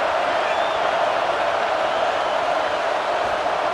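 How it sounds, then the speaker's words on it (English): Stadium crowd in EA Sports College Football 26, a steady, dense roar from a large football crowd that holds at an even loud level throughout without pauses. "The roar of the crowd trying to fuel this defense to keep them pinned in their own end."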